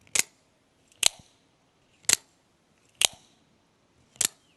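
An Axial MagnaCut out-the-front knife fires its blade five times, each a crisp, isolated clack close to the mic, spaced about a second apart over quiet.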